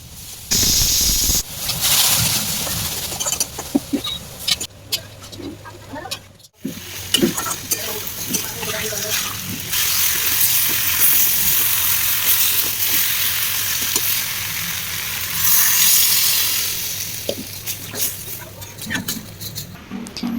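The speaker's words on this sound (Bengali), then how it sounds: "মাটনটা ভালো করে কষিয়ে নিলাম, নিয়ে আলুগুলো দিয়ে আরেকটু ভালো করে কষিয়ে নিয়ে" Mutton is sautéed in a pan with a loud, continuous sizzle and hiss, repeated scraping and stirring clatter running throughout at close range.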